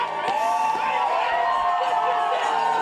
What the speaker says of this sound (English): The crowd on their feet here.